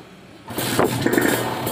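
A Kawasaki Ninja RR two-stroke motorcycle fitted with a PWK30 carburetor starts up: a quiet lead-in, then a sudden loud catch about halfway through that settles into a steady, buzzing idle close to the microphone.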